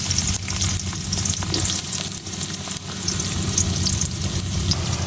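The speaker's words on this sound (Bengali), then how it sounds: "এখন তেলের মধ্যে আমি বেশ অনেকটা পেঁয়াজ কেটে দিয়ে দিতেছি" A large quantity of chopped onions frying in hot oil for coriander chicken, giving a loud, dense, continuous sizzle and crackle with faint stirring throughout.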